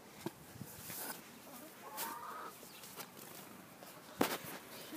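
Chickens cluck softly and intermittently nearby, with a few sharper squawks against a quiet outdoor background.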